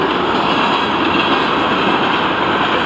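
Freight train on the FEC line rolling past close by, a loud steady roar of wheels and cars with rattling clatter, filling the whole moment.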